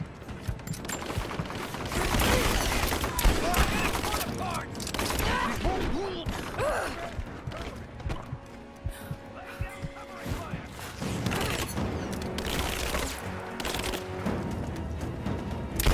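Rapid gunfire and bursts of automatic shooting fill a Rise of the Tomb Raider gameplay scene, loud and nearly continuous, with mechanical creaks and thuds mixed in and voices talking over the action.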